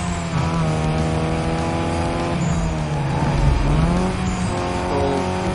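A race car in Need for Speed Most Wanted (2005) revs hard and close, engine pitch rising and dipping through gear shifts with a brief tire squeal, steady and loud throughout.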